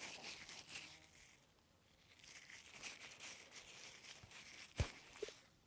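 Dried wild hop cones rubbed together right next to the microphone give soft, papery rustles and crinkles, quiet and intermittent, with a couple of sharper crackles near the end.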